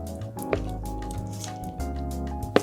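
Thick Christmas pudding mixture is spooned and pressed into a mold, giving soft wet squishes and drips, close and fairly quiet with a sharper knock at the end.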